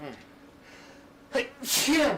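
A voice speaks briefly, then a sharp, loud sneeze bursts out close by, preceded by a quick inhale.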